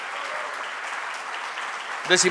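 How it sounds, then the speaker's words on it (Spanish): An audience applauds an agronomist receiving an award for excellence in soybean crop management at a ceremony. The clapping is dense, steady and fairly close, and a voice begins speaking over it at the very end. "pido un fuerte aplauso"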